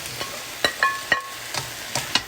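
Squash and zucchini stir-fry in a pan, a soft background sizzle punctuated by about six sharp spatula scrapes and clinks at an uneven pace, close and clear.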